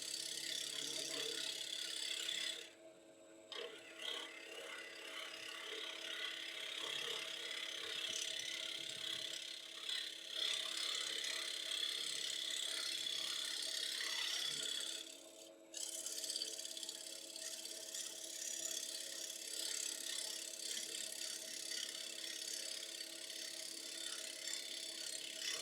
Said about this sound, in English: now going with a small round nose scraper just to clean up that surface